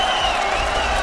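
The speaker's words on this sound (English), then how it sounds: "you can hear the crowd." A boxing arena crowd at a heavyweight bout roars steadily, a dense, sustained wash of cheering voices filling the space without breaks.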